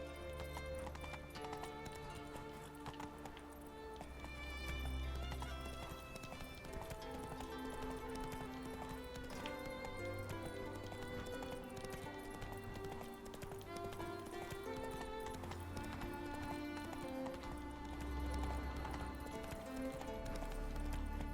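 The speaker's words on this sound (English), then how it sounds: "Not so fast, Roach" Hooves clip-clop steadily as a horse gallops through a video game world of The Witcher, with rhythmic thuds and an occasional whinny over a constant music bed throughout.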